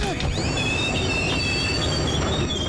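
A passenger train brakes hard after the emergency chain is pulled, its wheels squealing in loud, sustained high-pitched whines over a steady rumbling roar.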